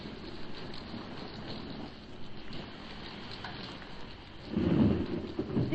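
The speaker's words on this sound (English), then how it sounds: "A sudden electrical storm sweeps over the weird island as Mrs. Gregory, Jerry, and Joan huddle" Radio-drama thunderstorm effect of steady rain on a surface under rumbling thunder, with a louder thunder roll swelling near the end; no voices.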